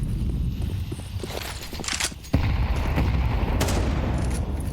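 Grenade blasts and rapid gunfire ring out during a professional Counter-Strike 2 esports match, with dense crackling bursts, one sharp loud impact midway and a sustained rumbling wash of noise afterward.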